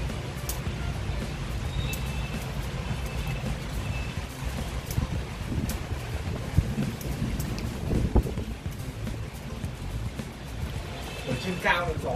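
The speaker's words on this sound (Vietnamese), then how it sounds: "Ở trên cao thì gió sợ lắm." Wind gusting high up while someone prunes a bougainvillea: a constant rumbling buffet of wind against the microphone, with occasional rustles and small knocks on top.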